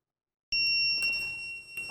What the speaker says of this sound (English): this is like building my own home alarm